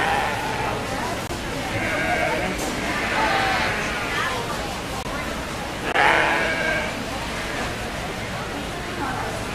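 Katahdin sheep bleat at a 4-H/FFA breeding show, several cries rising over a steady crowded barn din with an announcer's voice and chatter throughout.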